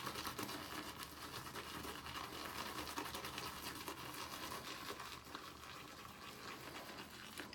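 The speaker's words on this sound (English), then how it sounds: "usually I'll wet the brush at least one time and go back into the puck" Wet shaving brush swirled on a Blackbird Brass shave soap puck, a continuous soft bristly, wet scrubbing hiss, close but faint and steady throughout, with no talk.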